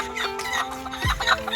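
A country chicken, a nattu kozhi, clucks close by in a few brief, throaty calls over faint background noise.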